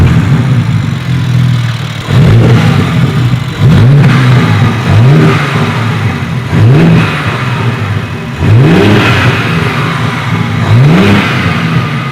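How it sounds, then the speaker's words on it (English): A G82 BMW M4 Competition engine fires up and idles, then is revved several times in short bursts, each rising sharply and dropping back, loud and close. "I'm gonna go ahead and do a startup and just a couple of revs"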